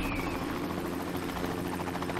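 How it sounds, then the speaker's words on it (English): A helicopter in the video game Trials of the Blood Dragon drones steadily with a close, continuous rotor whir that holds at one level throughout, with no talk over it. "We'll jump in the helicopter."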